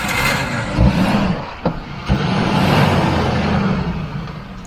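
A Suzuki Gypsy revs while driving off-road toward a waterfall, its engine rising and falling in a steady drone with a few sharp knocks, no talking.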